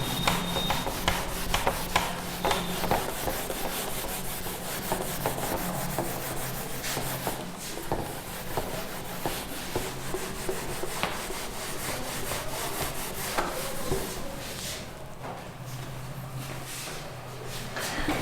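Board being rubbed clean during a maths lesson on polynomials, a steady scraping, wiping rub that continues for about eighteen seconds with repeated strokes, close and fairly loud, with no talking over it.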